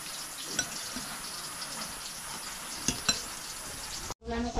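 Chicken adobo being stirred in a pan, a faint steady sizzle with a few light clinks of utensil on metal, close by and quiet, ending in an abrupt cut.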